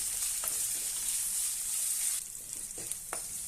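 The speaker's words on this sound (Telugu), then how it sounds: "కొంచెం వేయించుకుందాం." Ginger and green chillies sizzle steadily in hot oil for coconut chutney, a dense continuous frying hiss with a few soft stirring knocks near the end, no talking.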